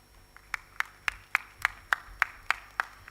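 About ten crisp, evenly spaced claps sound at a women's conference in Delhi as an honoured guest arrives, sharp and fairly faint against a quiet hall.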